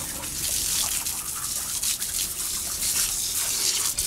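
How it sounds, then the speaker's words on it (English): Cold water from a garden tap gushing through a hose at an outdoor winter pond clean-up, a steady, close, hissing spray that runs unbroken throughout with no talk. "hosing themselves from a freezing cold water supply from the garden tap"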